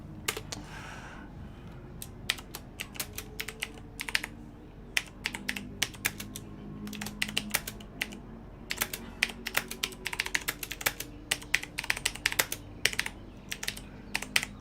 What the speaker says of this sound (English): I realized last night how loud my keyboard is